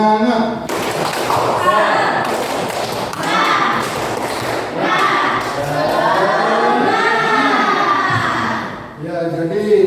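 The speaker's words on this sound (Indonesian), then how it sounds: "Bisa tepuk tangan semangat?" Students in a classroom clapping hands in a spirit chant, dense rhythmic claps running for several seconds alongside group voices.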